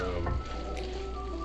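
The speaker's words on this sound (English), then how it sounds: "I don't know if you can see the sizzling in there." Sausage and grease sizzle steadily in a frying pan for sausage cream gravy, a continuous close crackle with a low hum underneath.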